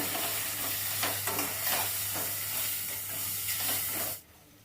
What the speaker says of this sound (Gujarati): બધા જ મસાલાઓને મિક્સ કરી લઈએ